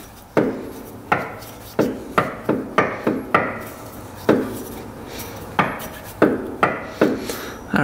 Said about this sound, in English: we're gonna get the slide hammer in there again, see if it'll come out this time